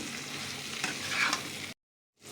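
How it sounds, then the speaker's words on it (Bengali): Ridge gourd pieces stir-fried with spices in a pan, giving a steady close sizzle with a few scraping stirs, cut off abruptly near the end by a short silence before the frying resumes. "ঝিঙেগুলো এর সাথে দিয়ে ভালো করে একটুখানি কষিয়ে নেবো আমি"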